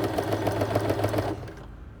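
A sewing machine stitches with a rolled hem foot in a steady, rapid mechanical whir at close range, then slows and stops near the end.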